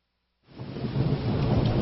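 Thunderstorm sound effect with heavy rain, fading in from silence into a dense, steady roar of rainfall with low rumbling underneath, loud and close, no voices.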